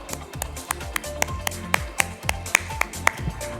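Applause for a panel speaker at an e-commerce business event, a steady run of sharp claps over a low background with an announcer-style voice underneath.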